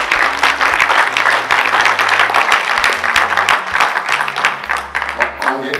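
An audience at a professional training session applauds loudly and steadily for several seconds, dense clapping filling the room with a few voices murmuring underneath.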